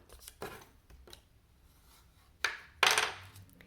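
Card stock being folded and creased by hand during card making, with a few soft rustles followed by two sharper crisp creasing swipes near the end, close and fairly quiet.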